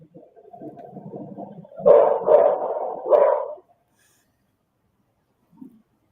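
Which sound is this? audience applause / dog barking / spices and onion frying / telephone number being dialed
dog barking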